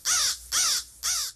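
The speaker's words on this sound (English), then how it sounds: "crows," Crows give three harsh, evenly spaced caws, loud and close, each a rough burst with short silent gaps between.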